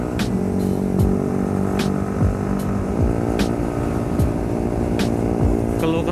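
A Yamaha MT-15 motorcycle engine hums steadily while riding, a close constant drone with faint passing traffic and wind ticks layered over it.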